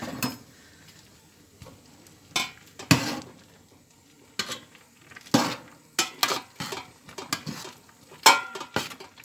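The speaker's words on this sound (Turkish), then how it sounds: "Menemenlik domateslerimi kavuruyorum." Tomatoes for menemen sautéing in a pan, heard mostly as intermittent clinks and scrapes of a utensil against the pan, with soft stirring between the sharper knocks and only a faint background sizzle.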